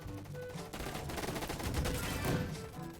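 Rapid AK-47 gunfire from a Roblox Gunfight Arena match, dense overlapping bursts of shots running steadily for about three seconds at moderate loudness with no voices.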